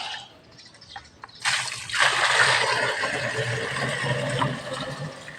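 Water poured from a container onto pool chlorine beside a swimming pool to dissolve it: a sudden close splash begins partway through, then a loud, steady gushing pour with fizzing that continues to the end.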